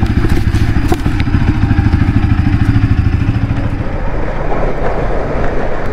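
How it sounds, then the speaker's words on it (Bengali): A Bajaj Pulsar NS200 motorcycle idles after a cold start, its engine running loud and close with a steady, dense, rapid thrum and clatter that continues throughout without talk. "বাইক করে দিয়েছি আমরা কোল্ড স্টার্ট"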